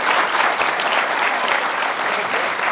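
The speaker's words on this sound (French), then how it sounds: "Applaudis, ben oui." An audience bursts into loud, continuous applause, a thick wash of many hands clapping at once that holds steady from start to finish.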